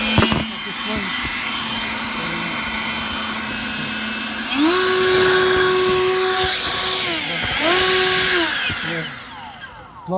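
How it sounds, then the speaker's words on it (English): A leaf blower drones and whines, rising in pitch in two long surges as it clears leaves from second-floor roof gutters in Curtis Park, Sacramento, with voices talking over the engine. "I'm gonna blow out the leaf gutters with a blower here"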